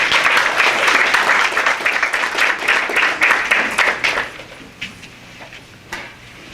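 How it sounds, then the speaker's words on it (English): Audience hand clapping at a Hartford mayoral campaign announcement event, steady crowd applause for about four seconds that quickly fades into a few scattered last claps. "Give her a hand clap."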